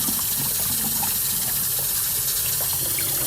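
Running water gushes and hisses steadily over a wet collodion photographic plate as it is rinsed, a continuous close splashing flow with no talking.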